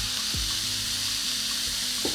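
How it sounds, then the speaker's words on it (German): Chopped button mushrooms fry in a pan with steady broadband sizzling and a brief stir around the middle, close and continuous with no talking. "Als nächstes geben wir die gehackte Champignons rein und wir lassen alles zusammen anbraten"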